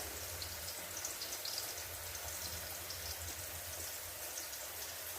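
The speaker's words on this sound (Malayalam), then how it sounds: "ഞാൻ മീൻ പൊരിക്കാൻ വെച്ച്" Fish frying in a pan for a fish curry gives a steady, even sizzle that holds at a moderate level throughout, with no voices over it.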